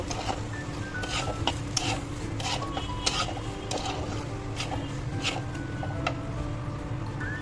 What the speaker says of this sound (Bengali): এবার চাউমিনগুলো মিশিয়ে